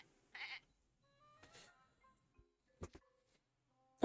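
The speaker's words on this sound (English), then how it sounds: "It's a white goat, and a small one at that." A small white goat bleats in the video game Twisted Wonderland, with a few short, thin cries separated by quiet gaps, fairly faint and without talk.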